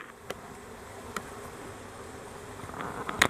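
Honey bees on a brood frame during an end-of-summer hive inspection make a soft, steady buzzing hum with a few louder passes close by, quiet and continuous with no talking.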